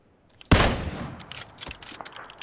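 In the video game PUBG, a single sharp gunshot cracks out loud and close, then rings into a decaying echo with a few fainter distant pops after it.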